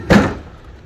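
The heavy glass door of a Samsung fridge freezer shuts with a single close, loud thud that fades quickly, with no voices.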